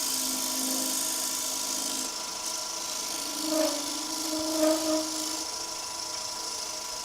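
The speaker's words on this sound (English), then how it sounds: "Now I'm going to go for a really big negative rake scraper, i.e. a skew." A signature skew chisel, used as a big negative-rake scraper, runs across a spinning wooden workpiece on a lathe, giving a steady hiss with a few brief louder scraping passes.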